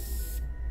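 A short, close hiss of an aerosol spray being used in the video game Zero Time Dilemma, lasting under half a second before cutting off to quiet.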